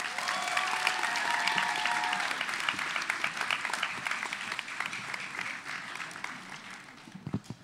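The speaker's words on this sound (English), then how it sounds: "When they're done, give them another round of applause." Audience applause at a school spoken word poetry event for grade 11 and 12 students, a dense, steady burst of clapping that swells early and then slowly thins out over several seconds, with a few loud individual claps near the end.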